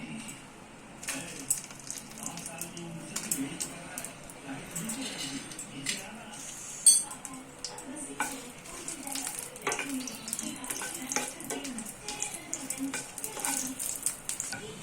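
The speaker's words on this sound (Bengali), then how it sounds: "সরিষার তেলটা গরম হতে হতে আমরা এখন শুকনা ঝালগুলো দিয়ে একটু" Dried red chillies fry in heating mustard oil in a pan, a soft crackle and sizzle with light utensil clinks running under a person's steady talking.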